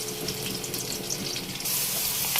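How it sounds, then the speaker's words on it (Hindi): Finely chopped medium onion frying in hot oil in a pan for potato tahari, a steady broadband sizzle with a louder, brighter burst near the end, no talking. "हमारी प्याज फ्राई हो रही है।"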